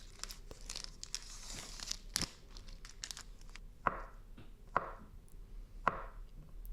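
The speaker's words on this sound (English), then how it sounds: "The only annoyance is getting the packaging off" Plastic food packaging is torn and crinkled off, quiet close-up rustles punctuated by several sharp ripping snaps spaced a second or so apart, with no voices.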